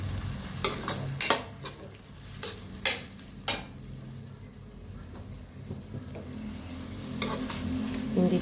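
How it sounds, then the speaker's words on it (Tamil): Vegetable fried rice with tomato sauce being stirred in a pan, a spoon scraping and knocking the metal in irregular loud strokes over a steady soft sizzle. "நல்லா கிண்டிக்கங்க."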